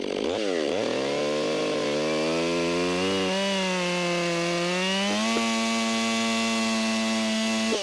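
A chainsaw runs loud and steady while cutting into the hinge wood of a dangerous leaning tree, its engine pitch rising and holding under load, with no talk over it.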